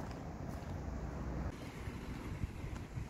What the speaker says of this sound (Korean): 뭔가 바람이 부는 것 같으면서도